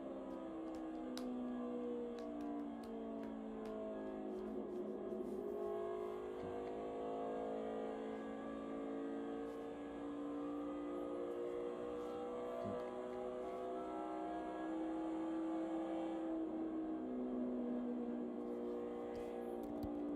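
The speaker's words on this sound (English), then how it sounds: "Listen to that throttle as they play it a little bit through 3 and 4 there" Faint NASCAR Xfinity race car engine droning steadily at Texas, its pitch rising and falling as the throttle opens and eases through turns 3 and 4, heard at a distance.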